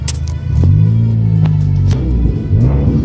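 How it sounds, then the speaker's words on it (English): A Ford Fiesta ST four-cylinder engine revs up close and loud with a throaty rumble, holding steady before dipping and rising again near the end, with no talk over it. "Ooh, lovely, lovely four-cylinder noises."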